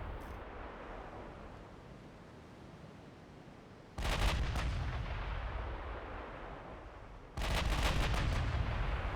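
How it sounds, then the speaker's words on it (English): Heavy naval guns fire broadside in the naval strategy game Ultimate Admiral: Dreadnoughts, two loud booming salvos at about four and seven seconds, each with crackling layered reports, over a constant low rumble of wind and sea. "go more broadside again to get more of those guns firing"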